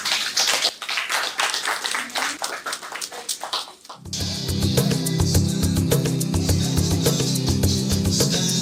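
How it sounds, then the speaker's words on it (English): Children applaud together at an art exhibition and competition, a dense burst of clapping that starts abruptly and holds steady and loud, with scattered taps and chatter before it. "Clap for yourselves."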